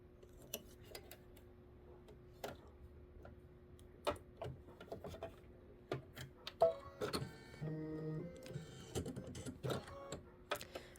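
An embroidery machine stitches a tack-down on a quilt, giving quiet, irregular mechanical ticks and clicks with a faint steady hum and brief whirring bursts of stitching near the end.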